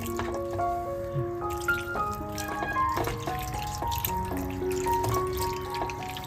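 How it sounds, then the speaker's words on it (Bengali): Fresh chhana curdled with vinegar being rinsed in clean water for rasgulla. Light trickling and dripping water runs close and fairly faint, over a soft, steady tonal background. "তারপর আমি ছানাটা পরিষ্কার জল দিয়ে ভালো করে ধুয়ে নেব"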